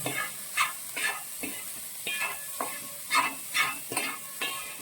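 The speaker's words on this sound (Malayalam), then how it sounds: "എല്ലാം നന്നായിട്ടൊന്ന് യോജിപ്പിക്കുക" A spoon stirs a thick mixture of banana and roasted semolina in a pan, giving about a dozen rhythmic scraping strokes with a soft sizzle, close and alone.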